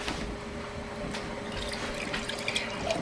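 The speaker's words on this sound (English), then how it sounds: "So all I do is put my coffee in a pitcher. Pour it in." Brewed coffee poured from a pitcher into canning jars, a continuous trickling, splashing liquid sound with small drips near the end, close and moderately quiet.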